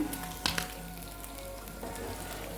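Fish frying in a pan, a soft steady sizzle close by with a couple of brief clicks of a utensil near the start.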